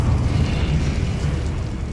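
A fire spell, Incendio, cast in the Hogwarts Legacy game, a loud sustained roaring burst of flame with heavy low rumble, steady throughout without talk.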